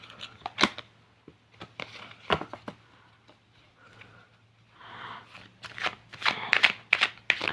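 A deck of oracle cards shuffled up close in irregular bursts of sharp riffling and flicking, with quieter pauses between, over a faint low hum.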